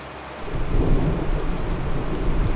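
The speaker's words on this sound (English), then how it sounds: "Thunder rumbling away" Thunder rolls through a farming video game, a low rumble that swells after a quieter start and holds loud and broad over steady rain, with no talk.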